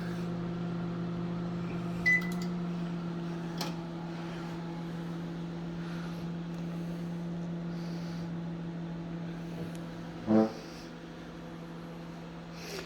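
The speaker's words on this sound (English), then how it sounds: "see how that fan works?" A Samsung over-the-range microwave's fan whirs steadily with a low hum throughout, punctuated by a couple of brief clicks near the start and later.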